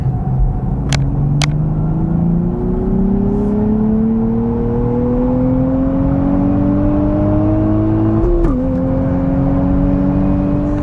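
A new Nissan Z sports car driving on a track, its engine note rising steadily as it accelerates hard, then dipping briefly during a gear change, loud and close throughout.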